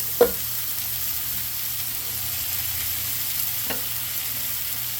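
Onions sizzle on a hot griddle for surf and turf smash burger tacos, a steady frying hiss with a couple of brief scrapes of a spatula, no talking.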